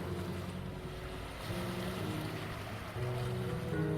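Ocean water ebbs and flows beneath a platform in the video game Lethal Company, a continuous low wash of waves with soft swells, steady and moderately loud, no speech.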